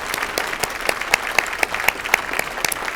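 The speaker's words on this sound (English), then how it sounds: "Would you all please stand so we can clap for you?" An audience at a university chancellor's inauguration claps steadily, a dense, even patter of many hands held close and at moderate loudness, with no talk over it.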